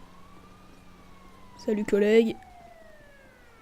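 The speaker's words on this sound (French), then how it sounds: "Je crois que j'entends notre ambulance." A video game ambulance siren in GTA V wails faintly in the distance, its pitch sliding slowly downward throughout, while a voice briefly speaks a short greeting midway.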